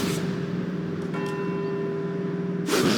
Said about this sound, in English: let's see if we can visit every bell tower in Edinburgh and get back here before they all stop ringing